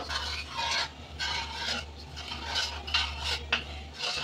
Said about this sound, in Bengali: দিয়ে লবণটাও মিক্স করে নেবো।